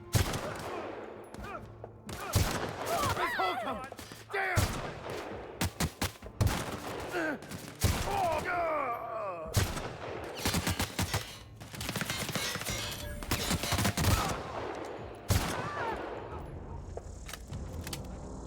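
Sniper fire and a heavy exchange of shots from The Outer Worlds crackle nearly nonstop in dense, uneven bursts, mixed with clattering game effects and background noise.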